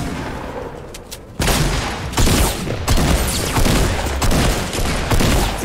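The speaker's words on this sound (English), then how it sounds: "Someone shooting me from behind." Rapid bursts of game gunfire in Fortnite, loud and dense, overlapping volleys and shots continuing steadily after a quieter opening second.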